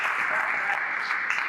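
Audience applause for a company team at a startup presentation, a steady dense wash of clapping that fills the whole moment without a break.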